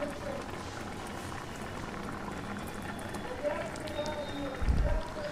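Dal boils in a pot as set-aside water is stirred into it, giving a steady bubbling and liquid churn with a low thump near the end; a voice murmurs faintly underneath.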